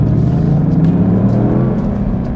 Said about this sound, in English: The Mustang GT has a new 5-liter Coyote V8 engine making 480 horsepower and 415 pound-feet of torque.